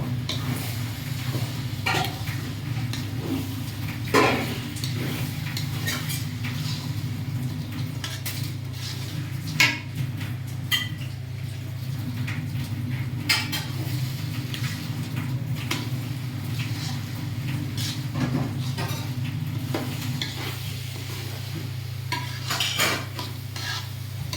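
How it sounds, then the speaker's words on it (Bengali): Rice is stir-fried in a pot for mutton kacchi biryani, a spoon scraping and knocking against the metal in irregular strokes over a steady low hum and faint sizzle, close and continuous with no talk. "আমি হচ্ছে কি চাউলটা কষাই নিতেছি"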